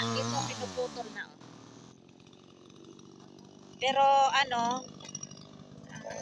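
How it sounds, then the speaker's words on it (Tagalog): A chainsaw cuts firewood being prepared for winter in a village in Rawalak, revving with a loud, rising whine at first, then settling to a lower running drone while a person talks over it. "pinuputol niya ito using this machine, chainsaw machine"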